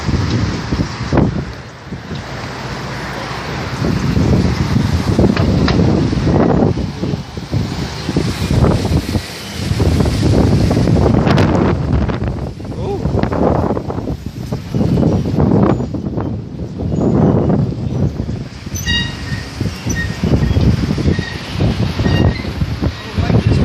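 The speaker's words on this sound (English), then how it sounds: "It's a windy day in Panama City." Strong gusty wind roars across a beach in Panama City on a stormy day, buffeting the microphone loudly and continuously, with surf faintly beneath and people talking at moments.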